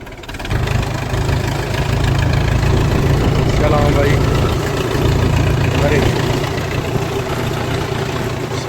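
A Honda Activa scooter engine idles with a steady low hum that continues throughout, with faint background noise over it.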